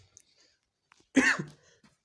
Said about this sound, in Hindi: सॉरी दोस्तों, खांसी होने की वजह से।